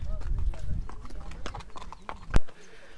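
A horse's hooves clip-clop along a mountain path at Gabin Jabba in Pakistan's Swat Valley, a quick uneven run of close hoof strikes with one sharp knock near the end, heard under talking.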